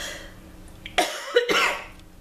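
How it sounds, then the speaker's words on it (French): Two or three harsh coughs burst out close to the microphone, one after another, followed by a longer rasping cough. "J'ai envie de tousser."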